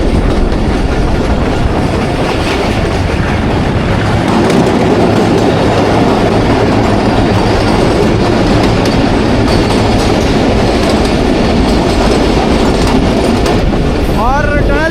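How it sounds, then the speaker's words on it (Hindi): Thall Express passenger train running into a tunnel, steady loud rumble with clickety-clack of wheels and a brief squeal near the end, heard from on board with a voice talking over it. "दूसरी टनल में इंटर हो रही है जी ट्रेन"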